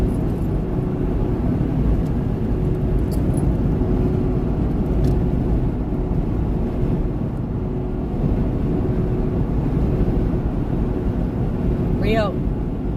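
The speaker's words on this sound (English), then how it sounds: "But truck's running good." Continuous low engine drone and road rumble from inside a truck while driving, steady and loud for the whole stretch, with a brief higher whine near the end.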